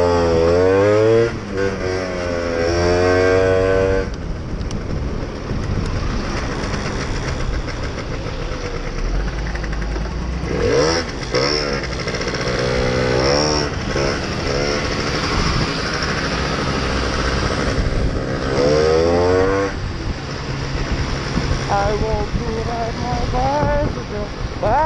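A Gilera Runner SP scooter rides through Leeds city centre, its engine droning steadily and rising and falling in pitch as it revs and changes speed. Voices sound over the engine noise.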